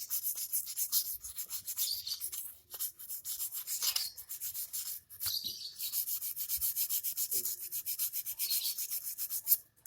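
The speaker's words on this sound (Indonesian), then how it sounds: "saya amplas lagi supaya makin bagus tarik kampas gandanya ini" Rapid, rhythmic rasping strokes of sandpaper scrubbing a scooter CVT clutch lining up close, continuing back and forth with only brief pauses.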